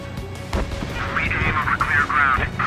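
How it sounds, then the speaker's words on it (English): A missile launches in the Ace Combat 7 video game, heard as a loud burst followed by a roaring rush of sustained whooshing noise, with game chatter and radio voices around it. "Missile away."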